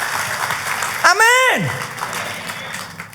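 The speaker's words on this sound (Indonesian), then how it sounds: "Tepuk tangannya yang paling meriah buat Tuhan kita." A church congregation claps in a short, steady burst during a worship service, beneath a voice speaking and a sliding musical tone.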